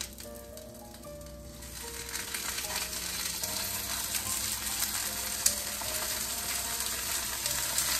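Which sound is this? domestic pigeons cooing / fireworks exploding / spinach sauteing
spinach sauteing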